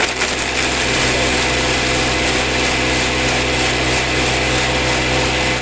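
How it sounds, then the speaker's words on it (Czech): A crusher-shredder machine grinds material down into fine sawdust, giving a loud, steady, dense roar of churning and rasping that runs unbroken throughout. "Představujeme vám drtičku, která rozdrtí vše na jemné piliny."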